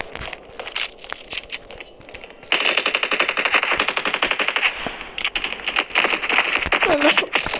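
Rapid machine-gun fire from an older version of a video game, a dense run of sharp bursts that starts mid-clip and keeps going loud and steady near the end.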